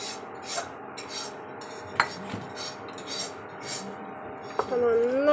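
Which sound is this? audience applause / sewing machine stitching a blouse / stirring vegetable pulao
stirring vegetable pulao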